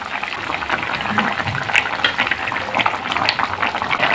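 Fried bhola fish pieces slide one by one into a simmering gravy, giving a steady close bubbling hiss with small splashy bursts and no talk.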